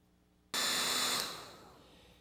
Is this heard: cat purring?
no